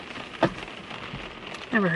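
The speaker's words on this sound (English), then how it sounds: "The rain's literally just gonna get heavier." Rain falling outdoors, a soft continuous patter of drops on surfaces, with a voice briefly heard over it.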